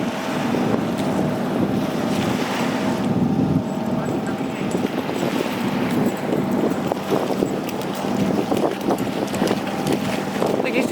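Wind buffets the microphone steadily on a beach in the Scottish Borders, with a continuous wash of waves beneath, and people talk now and then over the roar.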